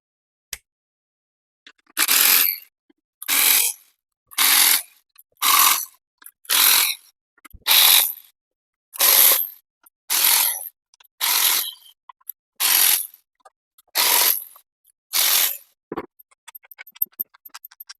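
A torque wrench set to 10 newton meters ratchets on Suzuki GSXR750 bolts, with about twelve crisp, evenly spaced bursts of clicking close to the listener, ending in a scatter of lighter ticks and no talking.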